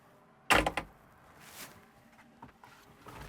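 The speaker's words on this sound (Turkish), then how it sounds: "Bu arada şu kapının açılmasına bayılıyorum." A Merlo Compact P27.6 compact telehandler loader's cab door opens with a sharp latch clack and a quick rattle, followed by fainter knocks and small rustles in a quiet space.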